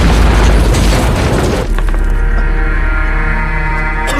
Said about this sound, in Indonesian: Drone tersebut langsung menghantam mobil pasukan SWAT dan menimbulkan ledakan yang besar.